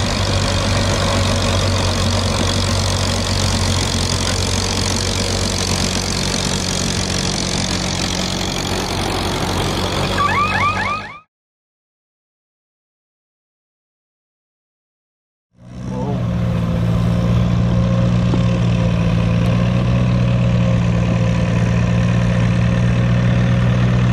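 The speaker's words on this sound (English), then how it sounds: "Another tractor here today as well." A vintage tractor engine idles loud and close at a tractor pull in Cobden, Victoria, a steady low rumble that cuts out to silence for a few seconds and then returns just as strongly.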